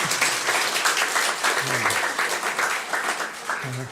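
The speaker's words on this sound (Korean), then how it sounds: "뭐 기왕에 치려면 확실하게 박수 한번 합시다." A church congregation at an autumn evangelistic meeting claps together in steady, dense applause that fills the room, with a few brief voices breaking through near the end.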